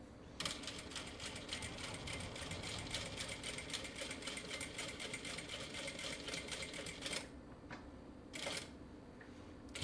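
A sewing machine runs steadily at close range, stitching along a fabric edge with a 1/2 inch guide to form a box corner, its rapid needle chatter continuous for most of the stretch with a couple of short pauses near the end.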